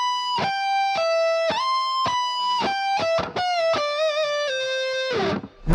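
Electric guitar lick picking notes that are already bent and then released, a string of clean plucked tones with gliding pitch drops, close and alone, ending in a brief noisy strum.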